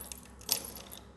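A bunch of keys jangles briefly and faintly, metal pieces clinking together close by in a short cluster of light rattles against a quiet background.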